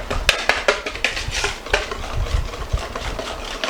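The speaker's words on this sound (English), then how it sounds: "Make sure you really stir this good" A utensil stirring pudding mixture for an ice cream cake in a bowl, giving a quick run of clinks and scraping strokes against the bowl at a steady, energetic pace, close and clear.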